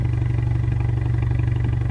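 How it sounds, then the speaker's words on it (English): A 2015 Ford Mustang EcoBoost idles steadily with a deep, throbbing exhaust note through what appears to be a non-stock system, loud and close with no talk over it. "So you can see, or hear I guess, the exhaust actually sounds great on the car."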